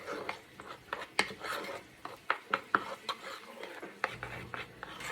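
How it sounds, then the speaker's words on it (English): A spoon scrapes and taps around a bowl while a creamy homemade bloomin onion sauce is stirred, giving soft, irregular clinks and rubbing sounds at low volume. "Make sure you get it stirred up real good"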